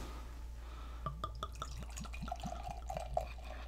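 Goose Island Bourbon County Rare stout poured from a bottle into a glass, a quick run of glugging, gurgling splashes that rise in pitch as the glass fills, close and quiet, with no talking.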